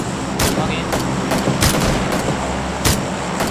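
Repeated gunshots in the video game PUBG (Battlegrounds), sharp cracks spaced irregularly over steady background rumble, some near and some more distant, with squad chatter faint underneath.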